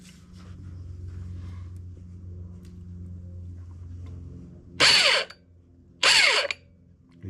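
The starter on a Suzuki GS 1000 with a faulty starter clutch spins the engine with a low mechanical whirr for several seconds, followed by two short, loud, harsh grinding bursts after it stops.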